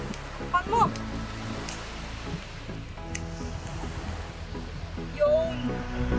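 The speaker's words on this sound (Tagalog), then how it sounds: "Kaya rinig nyo naman ang lakas ng waves ng alon." Strong wind and surf rolling onto a beach during a camping trip, a continuous rushing roar of waves and gusts, with a few brief voices breaking in over the steady wash.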